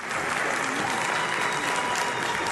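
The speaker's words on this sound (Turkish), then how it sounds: "O desteğe alkışla yanıt verdi Bahçeli." Sustained applause fills a Turkish parliament chamber, steady dense clapping from many hands without pause, fairly loud and close throughout.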